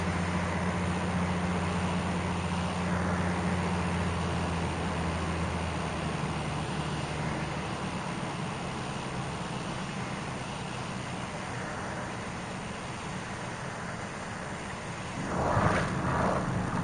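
A Cirrus small aircraft engine drones steadily with broadband roar during a landing approach with full flaps, close and constant, with a brief louder burst near the end.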